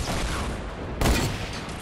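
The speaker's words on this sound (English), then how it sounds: "Headshotted one with the hunting rifle" A hunting rifle headshot in Fortnite Battle Royale on PS4: one sharp, loud report around the one-second mark rises above a steady bed of game noise and distant gunfire.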